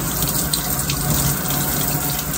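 Tap water runs in a steady, unbroken stream while a tissue-cultured variegated Florida Musa banana plantlet is rinsed, the flow filling the whole stretch without any voices.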